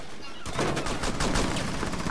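Rapid gunfire in Rainbow Six Siege, a loud, dense burst of automatic shots starting sharply and continuing in a steady rattling stream.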